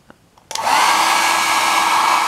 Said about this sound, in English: This is a good hairdryer.